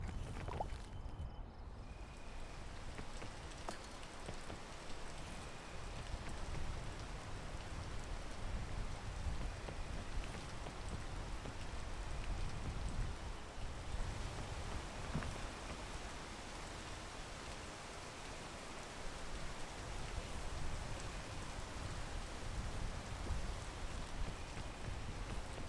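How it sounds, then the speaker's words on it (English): Steady rain hiss fills the whole stretch, a dense, even wash of falling water with no voices, holding at a constant moderate level throughout. "Let's dance the rain away."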